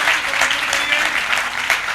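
At a Hindi poetry recital, an audience applauds with a dense, steady wash of many hands clapping, loud and continuous for the full two seconds.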